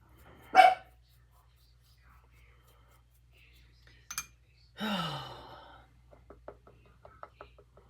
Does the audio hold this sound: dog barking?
yes